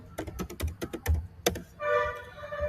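Keys clatter on a computer keyboard in quick irregular bursts of crisp clicks for a couple of seconds, then stop, leaving a faint hum in a quiet room while software is being installed.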